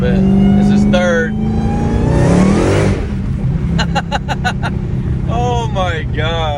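A 1000hp supercharged Dodge Hellcat accelerates hard in third gear with a loud engine roar and a rising supercharger whine, while people talk inside the car.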